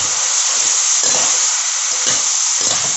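Broiler chicken feet frying in a pan, a loud continuous sizzle with faint stirring scrapes under it, close and steady with no talking.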